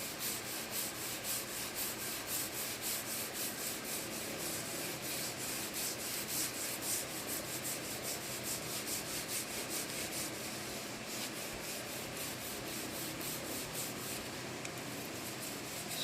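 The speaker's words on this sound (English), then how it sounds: "She's just rubbing that with steel wool." Rapid, rhythmic rasping as medium-grit steel wool is scrubbed hard along the grain of wood coated in paste stripper, a close, continuous back-and-forth scouring that goes on steadily without a break.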